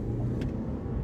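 A Lexus GS turbo midsize luxury sedan accelerates from inside the cabin, a steady low engine and road rumble at moderate level with no talk.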